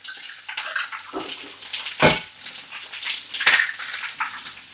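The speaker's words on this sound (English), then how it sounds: "So I've got 5 eggs. Just going to crack them all in here." Five eggs are cracked into a bowl for a Spanish tortilla, heard as sharp close cracks and wet splatting over a running watery background, with several distinct bright hits.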